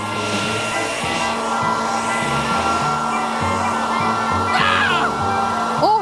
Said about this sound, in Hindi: हेयर ड्रायर से इसे गर्म करती हूँ।